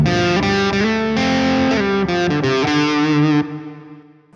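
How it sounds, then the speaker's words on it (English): Electric guitar chords through an Orange amp simulation ring out with distortion and a washy spring reverb, then the final chord decays into a fading tail. "Get a little spring verb in here."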